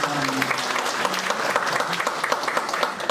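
Steady applause from a church congregation welcoming new members at a Sunday service, many hands clapping together, with a voice speaking faintly over it.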